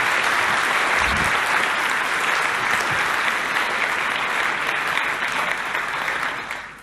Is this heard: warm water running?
no